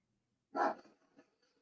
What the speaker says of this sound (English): So that dog seems pretty excited over there, Dan.